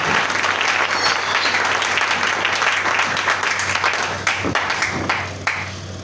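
A congregation at a church prayer day claps and applauds loudly and steadily, with a few sharper individual claps near the end as the applause begins to fade.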